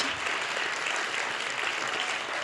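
A church congregation applauding warmly during a service, dense continuous clapping from many hands that fills the room at a steady level throughout.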